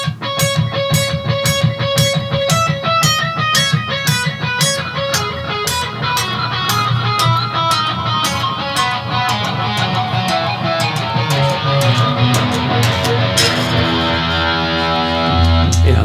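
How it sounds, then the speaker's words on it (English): An electric guitar played through a delay pedal sets up a chasing echo effect, loud picked notes repeating in steady rhythmic echoes that overlap and build into layered harmonies, with no talking. "the trick with the chasing effect is to wait until the echo has played back and then hit the string again"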